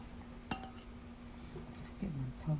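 Cut cucumber, bellflower root and squid go into a bowl, with a couple of sharp clinks and soft thuds of food landing, quiet and close.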